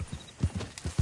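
Horse hooves clip-clop at a trot in Red Dead Redemption 2, with quick, uneven beats that are close and clear. There is no speech over them.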